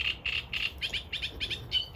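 Fluffy newly hatched bird chicks in a nest chirp in a quick series of short, high peeps, about two per half second, moderately close against a low background rumble.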